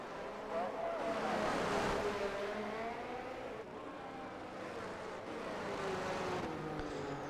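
Ferrari race car engine in a racing video game, droning steadily with rising and falling pitch through gear changes as it runs an outlap, heard under continuous commentary talk.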